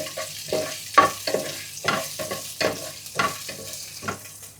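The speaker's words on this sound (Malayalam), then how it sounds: "ഉള്ളി ഇട്ട് കൊടുത്ത് നല്ലോണം ഒന്ന് വാട്ടിയെടുക്കണം കേട്ടോ." Sliced onions frying in oil for chicken biryani, a close sizzle broken by rhythmic spatula scrapes and stirring strokes about every half second, no voices.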